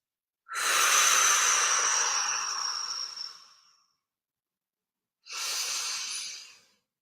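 Two slow breaths during a breathing exercise, each a long airy exhale heard close and alone, the first lasting about three seconds and the second shorter after a pause.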